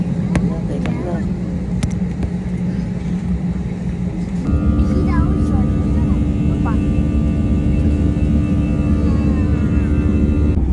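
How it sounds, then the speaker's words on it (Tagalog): Passenger airplane landing at Narita Airport in Japan, heard from inside the cabin as a constant engine rumble that grows louder and deeper partway through, with people talking over it. "lalapag ng aming eroplano dahil andito na kami sa Narita Airport"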